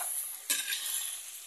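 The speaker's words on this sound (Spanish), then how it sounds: "lo voy a estar volteando para que se fríe bien" Pork sizzles steadily in a frying pan, a bright, close hiss that swells as the meat is turned with one quick scrape partway through.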